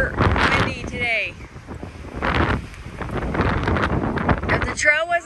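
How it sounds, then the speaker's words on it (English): Heavy wind buffets the microphone in loud gusts while people talk and shout over it. "Super de-duper windy today."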